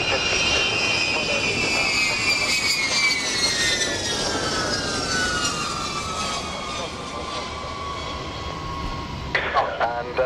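A B-52 bomber passes with a loud, sustained jet roar whose pitch slowly falls as it goes by, followed by a few sharp bursts near the end.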